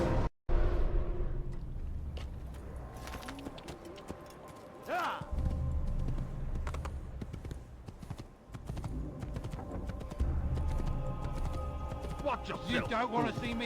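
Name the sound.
horse hooves galloping in Assassin's Creed video game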